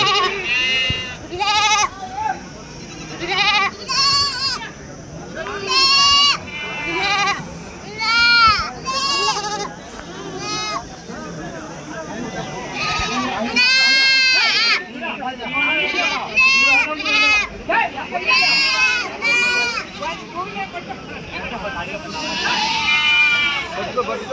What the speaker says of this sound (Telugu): మీవేనా ఇవి మేకలు?